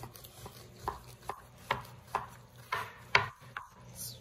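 Rhythmic scraping strokes as white pith is scraped off a red pomelo, about ten short, close, distinct scrapes in an irregular beat with no talk.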